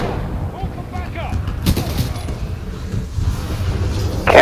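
Gunfire in the shooter game Titanfall 2, with loud, steady shooting and a few sharper reports over dense game noise while the player moves and fires.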